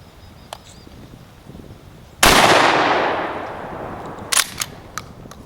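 A straight-pull shotgun fires one round of Winchester Super X nine-pellet 00 buckshot, a single sharp, loud blast that rings out and fades, followed by a few faint clicks and knocks.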